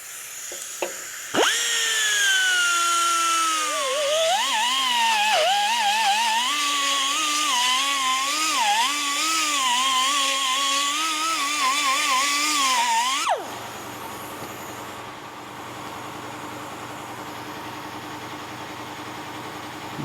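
A high-pitched power tool whines steadily for about twelve seconds while reaming out a hole in a recycled winch bumper, its pitch wavering under load, then cuts off, leaving a low background hum.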